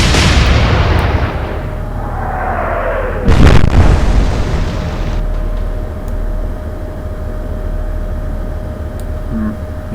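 Battleship guns fire in a naval battle in the Atlantic Fleet video game: a heavy boom opens, a whistling shell follows, then a second sharp, loud blast with a long rumbling tail fading into low ambient drone.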